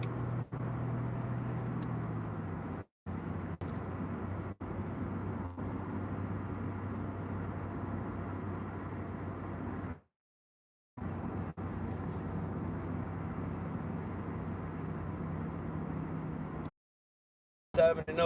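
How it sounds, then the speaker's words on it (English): A trash truck passes outside as a low, continuous engine rumble heard from indoors, steady for long stretches and broken by short silent gaps. "God damn the damn trash truck, bro."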